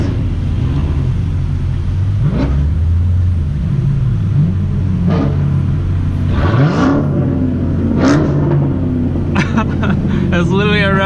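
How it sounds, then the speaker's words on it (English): Several cars revving their engines on a freeway, with repeated sharp throttle blips and roaring bursts over a constant rumble, nearby and loud, with voices talking and exclaiming throughout. "It's literally a rev battle on the freeway right now."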